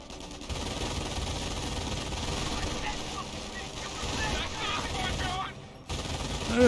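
MG42 machine gun fire in the World War II strategy game Company of Heroes, sustained rattling bursts layered among battlefield noise at moderate distance, with a commentator talking over it.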